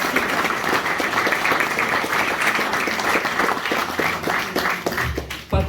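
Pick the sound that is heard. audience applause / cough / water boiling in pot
audience applause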